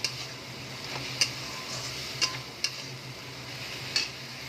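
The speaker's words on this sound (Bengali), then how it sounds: "তো এই মশলাটাকে আমি একটু ভালো করে নাড়াচাড়া করে নেব।" A spatula stirs a masala paste of garlic paste, turmeric, chilli powder and a little sugar in a pan, soft sizzling under a few sharp, spaced clicks of utensil against metal.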